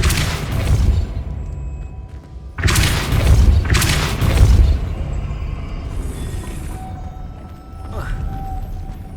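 Depulso spell cast in Hogwarts Legacy: a sequence of heavy, booming thumps in close succession, a couple of louder bursts, then a brief airy whoosh and fainter rumbling afterward.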